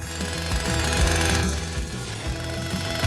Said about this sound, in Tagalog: Baka makatulong ang chainsaw.